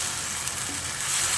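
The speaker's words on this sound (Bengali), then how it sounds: "টমেটো পেস্টটা দিয়ে মশলার সঙ্গে আরও কিছুক্ষণ কষিয়ে নিতে হবে" Tomato paste sautéing with spices in a pan for Bengali aloo dum, a soft, steady sizzle and hiss that stays faint and even throughout.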